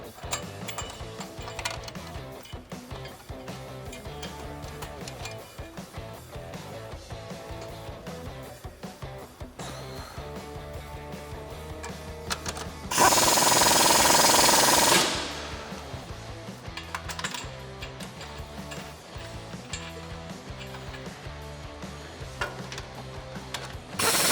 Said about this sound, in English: you'll need a 13mm socket to tighten these down